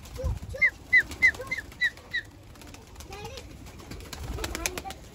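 Pigeons in a loft give a quick run of short, sharp calls close by, then shuffling and rustling as someone moves among them.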